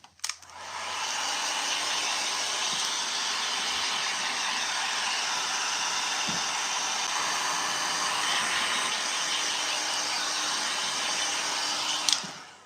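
A hair dryer blows steadily on a painted up-cycled cigar box, a loud continuous whooshing roar lasting over ten seconds, switched on at the start and cut off at the end.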